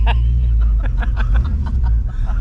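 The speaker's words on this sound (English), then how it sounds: "Oops, I left the rev limiter on." A Pontiac Firebird engine stutters against the rev limiter during a garage burnout, a loud low rumble broken by rapid cutting pulses, with a brief voice and laughter over it.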